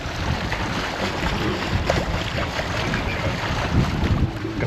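A tour boat cruises on Königssee, a clear Alpine lake, with a steady low engine rumble mixed with water rush and gusty wind buffeting the microphone throughout.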